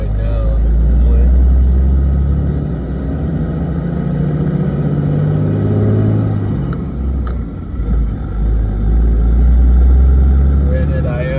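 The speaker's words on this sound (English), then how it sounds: "I'm gonna take it for a spin around the neighborhood here." A 4th-gen Cummins diesel truck with a G56 manual transmission drives through a neighborhood, its engine giving a heavy, steady low rumble that swells and eases with gear changes.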